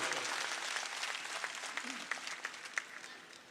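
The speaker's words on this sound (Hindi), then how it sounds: "जोरदार ताली से आशुतोष का स्वागत करो।" A political rally crowd in Datia claps to welcome a candidate, a dense wash of applause that thins out into sparser, sharper individual claps toward the end.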